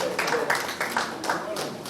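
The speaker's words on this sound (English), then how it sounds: "round of applause" Light scattered clapping from a small audience at an alumni association meeting, quiet and brief, with soft bursts of hand claps mixed with faint voices.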